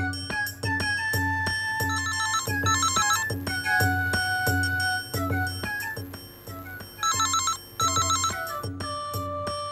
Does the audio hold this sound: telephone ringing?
yes